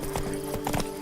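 Roach the horse in The Witcher 3 walks along with a few close, crisp hoof clops in quick uneven rhythm over a steady ambient hum, and nobody speaks.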